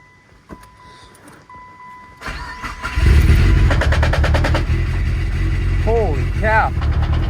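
A Mitsubishi Evo 8 engine cranks and fires up, settling straight into a loud, deep, rumbling idle that stays close and steady, with a brief high-pitched whistling sound near the end.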